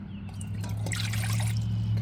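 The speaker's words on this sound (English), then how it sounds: "So I'm gonna have to add a little bit of water." Water pours in a steady trickle into a cooking pot during meal prep, close and continuous over a low background hum.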